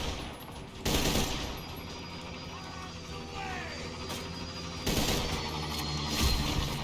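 Gunfire from gun encampments in the video game Borderlands 2, loud bursts of automatic fire starting and stopping in volleys over continuous combat noise.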